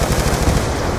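Sustained automatic gunfire against enemy infantry in Black Ops 2, a dense, loud, continuous roar of rapid shots with no breaks for about a second.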